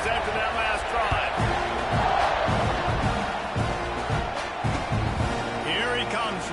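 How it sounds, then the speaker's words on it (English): Stadium crowd noise in the American football video game Madden 25, a broad, steady roar with occasional swells during a kickoff, running beneath a commentator's play-by-play talk. "this crowd is feeling themselves after that last drive."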